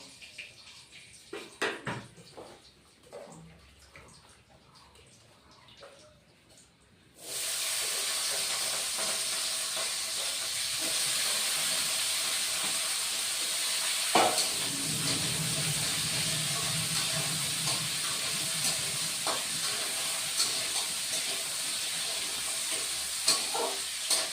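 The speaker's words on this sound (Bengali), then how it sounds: "আলু ভাজা হয়ে গেছে বন্ধুরা আলু ভাজা নামিয়ে দিলাম" Potatoes fry in a pan with a steady, loud oily sizzle that starts abruptly after a quieter opening of faint kitchen clatter, then holds evenly with a few soft stirring knocks.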